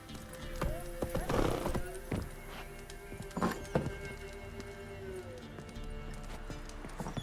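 Rhythmic hoofbeats of a horse galloping in a video game, with an occasional whinny and thuds rising and falling, fairly close, under faint background voices.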